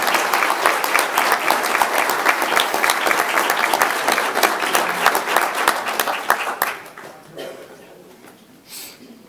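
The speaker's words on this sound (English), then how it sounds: "So please help me in giving him a round of applause." Board meeting audience applauds a secondary student of the month: loud, dense clapping from a crowd that holds strong, then thins out and fades to scattered claps near the end.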